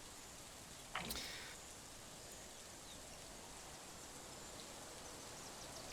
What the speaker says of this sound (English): I'm going to call this camp for right now, till it stops raining.